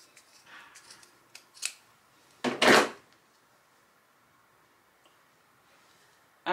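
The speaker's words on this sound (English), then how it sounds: "I'm just going to go ahead and cut some of this off" Cutting a piece off a Dollar Tree candle holder while making a stand: small clicks and taps, then one loud, close cut or snap, followed by quiet.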